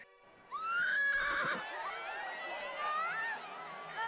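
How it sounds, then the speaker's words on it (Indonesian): Horse neighing in an anime: a loud, clear whinny rising and wavering for several seconds over a faint background murmur. "Tiba-tiba saja Cavendish datang dengan kuda putihnya"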